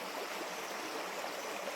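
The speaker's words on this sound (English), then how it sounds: "Might get drowned out by the river" A forest river flows in a steady, broad rushing wash of water, continuous and even, with no voices over it.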